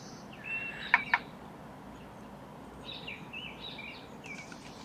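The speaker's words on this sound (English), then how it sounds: "See, that's a new one, that bird there." An unfamiliar bird, once taken for a blackbird, calls outdoors in a few short, thin phrases, faint and somewhat distant against a steady background hiss of insects.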